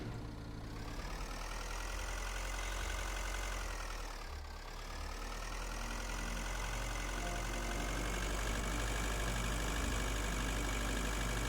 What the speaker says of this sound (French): c'est vraiment horrible hein, le petit tracteur là